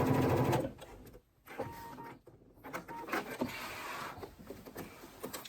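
A sewing machine runs steadily as it back stitches a dress seam made from a Simplicity 9777 pattern. The mechanical whir pauses briefly partway through, then carries on at a moderate, even level.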